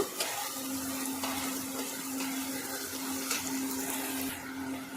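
Chopped onion frying lightly in hot oil in a pan for veg rolls, a steady, even close-up sizzle throughout with faint clicks.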